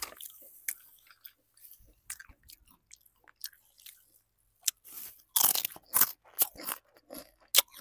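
Sour-and-cream kangkong chips crunch close up in a series of sharp, irregular bites and chews, starting sparse and growing louder and more frequent toward the end.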